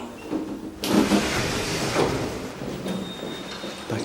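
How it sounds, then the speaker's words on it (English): Lift doors slide open at a car park with a sudden rushing whoosh and rumble, followed by a low mechanical hum and faint background noise. "Doors opening."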